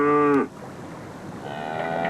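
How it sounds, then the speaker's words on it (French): A cow gives a single short, loud moo that breaks off abruptly. A fainter, drawn-out tonal call follows after a pause. "c'est une vache qui meugle"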